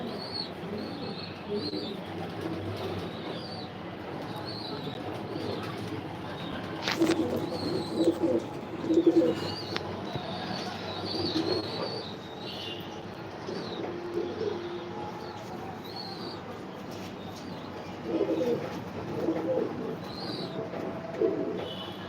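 Racing pigeons coo softly in a loft, low murmuring calls rising and falling in repeated bursts over a quiet background, with occasional chirps.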